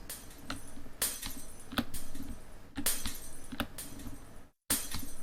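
Glass clinks and shatter-like hits from a Unity game in development, a series of sharp bright impacts spaced irregularly over a few seconds, with a brief silent gap near the end.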